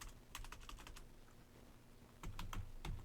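Computer keyboard typing heard as short, quiet bursts of clicking keystrokes, close by and faint, with a pause in the middle before a second burst.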